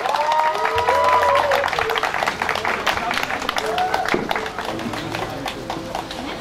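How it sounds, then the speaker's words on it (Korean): Applause from an audience at a Korean cultural volunteer event featuring poetry recitation. Steady, dense clapping runs throughout at a fairly loud level, and voices are heard over it. "김수희 선배님을 뜨거운 박수로 환영해 주시기 바랍니다."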